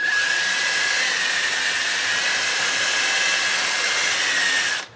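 A power drill runs in one steady, unbroken whine close by, the motor held at a constant speed for several seconds before cutting off right at the end. No voices.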